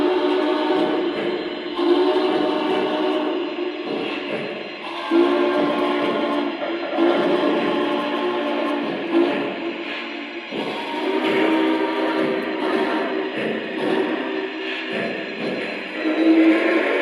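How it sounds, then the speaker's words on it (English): A Lionel Vision Line Big Boy model steam locomotive sounds its whistle in repeated long chime blasts while its bell rings steadily underneath, close and loud, with brief pauses between whistle calls. "it is equipped with 5 bells and 5 whistles"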